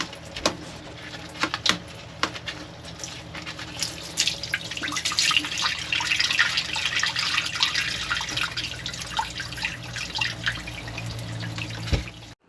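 Hot water drains from a loosened manifold drain plug on a 5.7 OMC Cobra boat engine during winterizing, a steady trickling, splashing flow with occasional drips and clicks, close by and moderately loud, with no talking.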